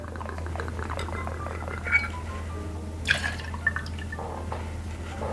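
Twenty-five millilitres of Tia Maria coffee liqueur poured for an espresso martini, giving a soft trickle with a few small drips and light clinks over steady low background hum.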